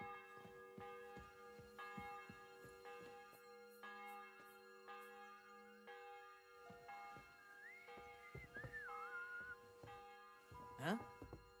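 A church bell rings for a wedding in Kingdom Come Deliverance II, spaced tolls with lingering tones beneath faint whistling or melodic game sounds, ending with a sharp rising swoosh.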